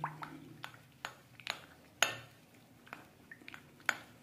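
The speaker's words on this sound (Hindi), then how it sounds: "दूध और बटर को अच्छे तरीके से मिक्स कर लेंगे ताकि ये थोड़ा गाढ़ा हो जाए।" Milk and butter stirred together in a pot, giving a series of sharp, quiet spoon clinks and scrapes against the metal at irregular intervals with faint liquid sloshing between them.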